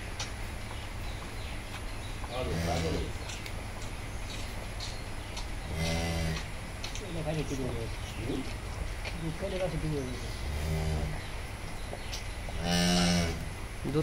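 A calf on a dairy farm lets out several loud moos at intervals while being bottle-fed milk, with birds cooing in the background and people talking around it.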